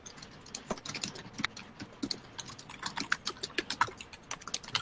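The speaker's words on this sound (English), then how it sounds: "Find out what you're typing." Rapid typing on a computer keyboard, with bursts of crisp, irregular key clicks that come close and fairly clear, with no other sound over them.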